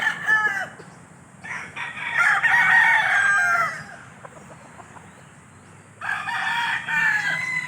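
Young gamecocks about two months old, tethered in a yard, crow repeatedly in bursts, with roosters and chickens clucking close by and no voices.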